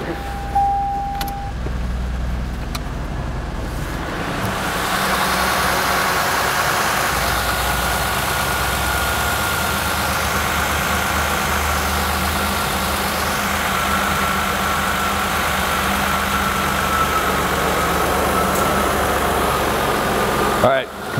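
A 1998 Ford Contour engine idles on a lift, a steady close rumble that grows fuller and louder after a few seconds, with a continuous whirring hum on top and faint voices in the background.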